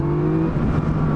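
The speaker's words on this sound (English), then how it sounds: "I open the throttle in second and it does that, which is ridiculous." A Yamaha MT-09 motorcycle engine drones steadily on throttle in second gear, a loud, close, continuous mechanical hum with no gaps.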